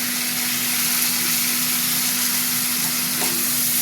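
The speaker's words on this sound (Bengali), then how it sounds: "টমেটো দিয়ে আবার ভাজবো" Tomatoes frying with potatoes and fish in a pan for a Bengali bhola fish and potato curry, giving a steady, even sizzle with a faint low hum underneath and no talking.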